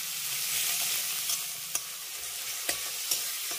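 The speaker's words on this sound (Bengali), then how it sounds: "এবার সামান্য একটু লবণ দিয়ে দেবো, এতে করে টমেটোটা খুব তাড়াতাড়ি নরম হয়ে যাবে।" Chopped ripe tomato with a little salt frying and softening in a pan, giving a soft continuous sizzle with a few sharp stirring clicks from a utensil scattered through it.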